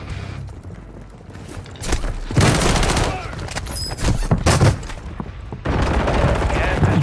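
Video game gunfire crackles in rapid bursts, loud and close. Short rattling volleys break out mid-stretch and again near the end, with quieter gaps between them.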